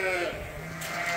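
Dorset ram lambs bleating inside a barn, several overlapping calls close by and fairly loud, with a higher cry rising near the end.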